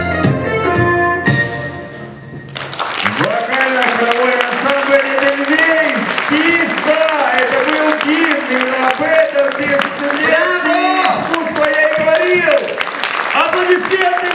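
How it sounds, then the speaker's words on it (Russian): A crowd applauds steadily while a vocal-choral ensemble sings over a musical accompaniment, the clapping forming a dense, continuous wash beneath the tune. "Под громкие аплодисменты!"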